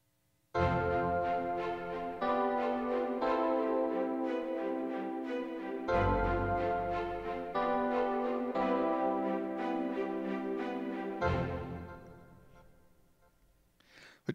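Sustained string ensemble chords from UJAM Striiings software instrument, lush and loud, changing every couple of seconds with a clear rhythmic pulse, no voices.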